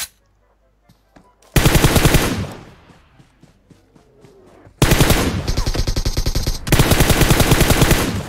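Gunfire in the mobile battle royale game PUBG Mobile: three loud, rapid automatic bursts, close and dense, separated by quieter gaps with faint clicks and distant pops.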